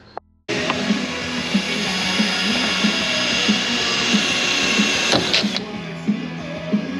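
A steady, grinding power drill runs continuously at close range, with a rough mechanical whir and small rhythmic clicks throughout.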